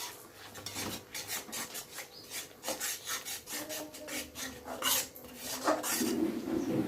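Sour yogurt and spices stir-fried in a pan for fish kalia, with rapid, rhythmic rasping scrapes of a spatula against the pan over a low sizzle, close and continuous.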